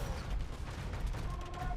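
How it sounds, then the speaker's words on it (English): Many bombard cannons fire together in a castle-siege strategy game, a dense continuous barrage of booms and mechanical clatter that stays loud throughout. "There's so many bombard cannons. I've never seen so many."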